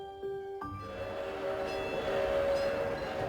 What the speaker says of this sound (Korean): 소리를 내며 달리는 모형 기차